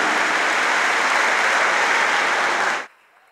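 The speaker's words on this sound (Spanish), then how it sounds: "Denle un fuerte aplauso al Cristo bendito" A church congregation in the Dominican Republic bursts into loud, dense applause for Christ during a service, sustained clapping that cuts off abruptly near the end, leaving quiet.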